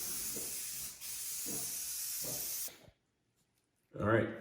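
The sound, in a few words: spray gun painting final purple coat on car part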